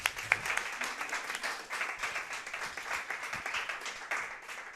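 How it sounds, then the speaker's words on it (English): Studio audience at a live public radio show clapping on cue during a break, a steady wash of many hands at moderate level with a brief louder burst near the start. "we're going to take another fake break where you all clap"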